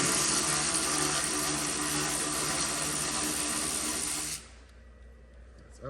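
Steady loud whirring of a power tool, likely an impact driver or ratchet, backing out 10 mm bolts from the upper radiator support frame of a Toyota Sienna, running continuously for about four seconds before cutting off abruptly into quiet.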